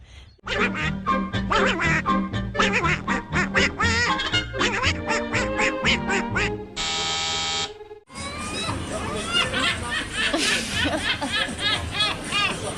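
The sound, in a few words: ducks quacking at a fish pond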